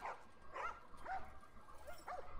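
Dogs in The Last of Us Remastered whimper and yip in short, high whining bursts, roughly four cries spaced about half a second apart, fairly close over a low background hum.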